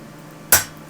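A hammer strikes a steel stamp once to mark a nail hole in a horseshoe, one sharp metallic tap that rings briefly and fades, close by, over a quiet forge background.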